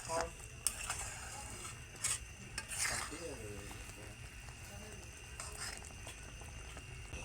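Jaggery and sugar melting in a pan for sweet-sour mango pickle, giving a faint continuous bubbling simmer with light scraping and stirring clatter, a few brief clinks, and soft voices in the background.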